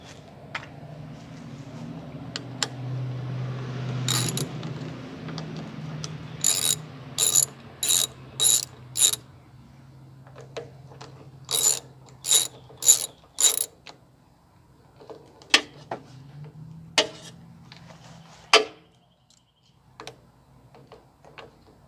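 Ratchet wrench loosening bolts on a lawn mower, several bursts of quick sharp clicking at close range with quiet gaps between them, plus a few isolated clicks and faint handling noise.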